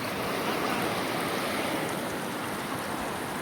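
A river rushes steadily past a picnic spot near a sluice gate in Assam, a loud, continuous broadband wash of flowing water with no break, close to the listener.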